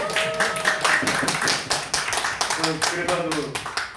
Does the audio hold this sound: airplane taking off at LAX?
no